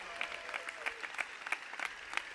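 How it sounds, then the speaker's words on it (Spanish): Audience applause at a campaign-closing political rally in Spain: a modest, fairly distant patter of clapping with regular sharper claps standing out, steady for a couple of seconds without speech on top. "Un aplauso para los intérpretes de signos que llevan la lengua de signos a las personas sordas"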